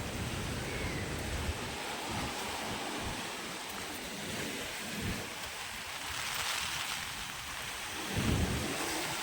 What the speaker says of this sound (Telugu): వర్షం ఇందాక నుంచి పడుతూనే ఉంది